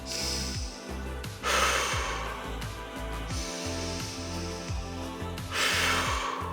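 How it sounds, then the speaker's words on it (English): Two long, deep breaths during a slow forward-fold stretch in a kids' exercise routine, each a broad airy rush rising over steady background music. "Take 2 big, deep breaths here."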